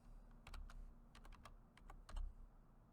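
Quiet clusters of computer keyboard typing, short bursts of crisp keystrokes separated by brief pauses and heard up close over a soft background hum.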